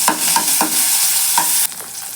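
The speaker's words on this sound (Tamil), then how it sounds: "பச்சை மிளகாய் சேர்த்துக்கிறேன்" Green chilies and ginger garlic paste frying in a little oil, a loud steady sizzle broken by several sharp stirring scrapes of a spoon against the pan.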